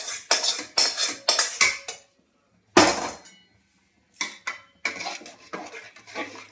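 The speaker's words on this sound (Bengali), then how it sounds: "ভালো করে নেড়ে নিই।" A spoon stirring spices in a metal cooking pot for khichuri, giving repeated close scraping and clinking strokes in bursts separated by short pauses.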